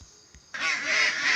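Ducks in their pen at dawn let out a sudden burst of loud, honking quacks, close and continuous after a brief quiet moment.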